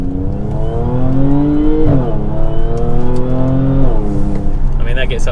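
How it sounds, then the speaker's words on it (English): An Audi B8 S4 with S-tronic gearbox revs up hard through the gears, loud and close, its engine note climbing then dropping sharply at each shift, with a crackle at the end as it pulls away in traffic. "it still does the little DSG pops when you change, or the S-tronic pops when you change gear"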